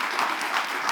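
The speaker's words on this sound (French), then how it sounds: "Est-ce qu'on peut applaudir," Brief burst of audience applause for a 20,000 CFA franc prize winner, steady dense clapping from a crowd.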